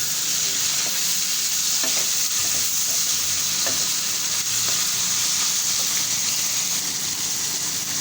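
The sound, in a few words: chopped tomato frying with minced meat in pan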